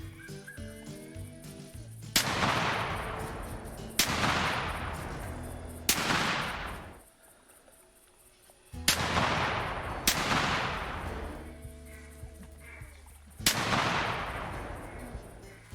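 Six loud 12 gauge semi-automatic shotgun blasts in theHunter: Call of the Wild, each a sharp crack trailing into a long rolling echo, fired in uneven spacing with a short lull midway over faint outdoor ambience.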